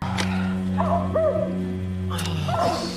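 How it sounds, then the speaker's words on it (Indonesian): A neighbor's dog yips and whines in short, high cries over a steady low hum at night. "anjing tetangganya menggonggong terus-terusan"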